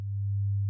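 A generated sine tone played reversed in Audacity, a single steady pure tone that swells from quiet to loud, then cuts off abruptly.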